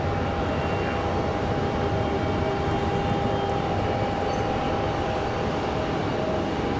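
Airliner inbound from Pittsburgh, Pennsylvania, landing at Raleigh-Durham airport, a continuous loud engine roar with a steady whining tone running through it, unbroken and fairly close.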